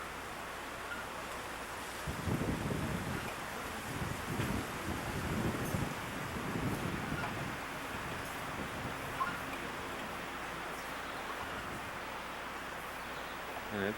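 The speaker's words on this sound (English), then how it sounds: "The breeze blowing the sailboats around a little bit." Breeze gusting over a lake with small sailboats during a July vacation at Migis Lodge, a steady low rumble of wind buffeting the microphone, stronger in the first half, with no voices.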